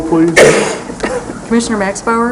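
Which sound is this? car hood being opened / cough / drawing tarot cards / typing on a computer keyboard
cough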